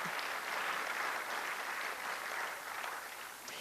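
Audience at a Senate candidate's campaign stop in Riverside applauds, a steady, distant-sounding wash of many hands clapping for several seconds, fairly faint and without talk.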